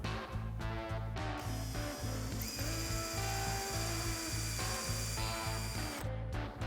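Power drill driving a pilot hole into a wooden dowel, a close buzzing whir with rapid rhythmic chatter and a brief pitch change midway, alone without talk.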